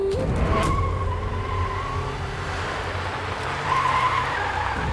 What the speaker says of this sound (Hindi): अरे कमल भैया क्या हुआ है, ऐसे ब्रेक क्यों मारी?